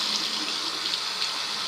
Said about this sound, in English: So I'm at the tap now. So if you put it onto hot water,